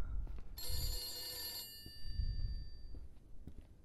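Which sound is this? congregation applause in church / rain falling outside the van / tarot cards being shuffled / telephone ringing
telephone ringing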